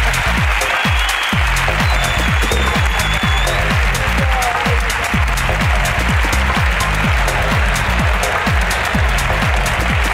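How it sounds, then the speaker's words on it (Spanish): A large crowd applauds steadily and loudly for the whole stretch, a dense wash of clapping with a few sharper claps standing out near the start. "Un aplauso para la ruina de Lupe."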